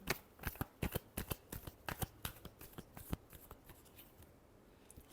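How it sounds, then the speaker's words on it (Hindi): Crisp, rapid riffling of a tarot deck being shuffled, a quick close string of soft card flutters and snaps that fades toward the end. "Last shuffle."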